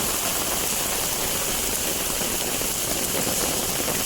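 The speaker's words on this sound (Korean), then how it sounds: "이렇게 비가 많이 내릴 줄은 지금 못 가겠는데." Heavy rain pours down outdoors during a storm with strong wind and fog, a dense, steady roar of water filling the whole moment without a break.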